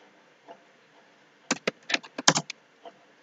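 Keystrokes on a computer keyboard while typing in MS Word: a few isolated taps, then a quick cluster of crisp, close clicks before a last lone tap.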